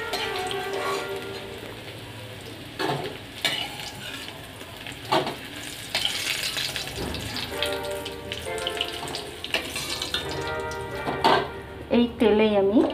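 Raw green banana fries in hot oil left from frying bitter gourd, giving a continuous crackling sizzle with occasional clinks of pans and utensils, under a voice talking at times.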